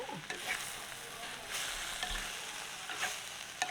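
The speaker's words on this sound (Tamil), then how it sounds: "அந்த இருக்கிற எண்ணெய்க்குள்ள சாடியாக வதங்கி" Radish sautés in oil while being stirred for a Jaffna-style radish curry, a steady sizzle broken by scraping spoon strokes against the pan, no one speaking.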